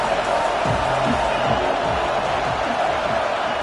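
Simulated stadium crowd in a college football video game, Oklahoma at Nebraska, roaring steadily on a big third down, a dense continuous wash of cheering with a few murmured voices underneath.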